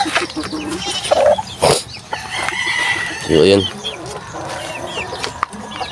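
Chickens clucking and a rooster crowing nearby, the calls rising and falling in loud bursts while someone talks over them.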